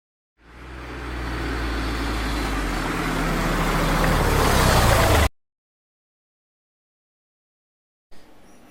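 A Suzuki GSX-R1000 superbike engine revs up hard for about five seconds, rising steadily in pitch and loudness before cutting off abruptly, followed by silence.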